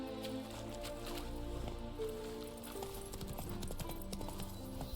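Roach, a horse in The Witcher 3, gallops with steady, rapid hoof clip-clops, loud and close over a busy game backdrop of music and ambience.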